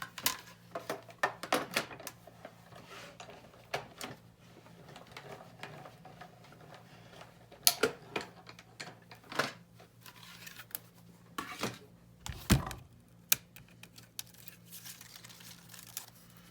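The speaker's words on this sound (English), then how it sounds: "I'm just going to put that over here on my die cutting machine, right? And we're going to cut those all out at one time." A die cutting machine cuts out paper butterflies, giving a run of close crinkling, clicking and crunching bursts with a few sharper snaps, no talk.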